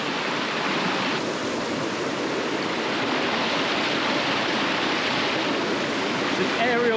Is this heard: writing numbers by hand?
no